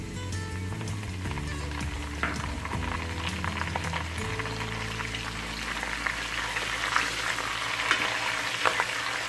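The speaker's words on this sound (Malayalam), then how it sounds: "ഇനി ഇതിലേക്ക് നമുക്ക് കറിവേപ്പില ആഡ് ചെയ്യാം." Curry leaves hitting hot oil for a mustard mango pickle, a steady close sizzle and crackle running throughout with a low hum underneath and scattered sharp pops, no voices.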